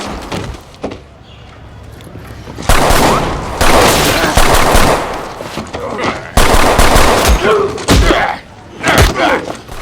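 Loud bursts of action-film gunfire crack in clusters and rapid volleys, mixed with thuds and impacts, while a narrator speaks over parts of the scene.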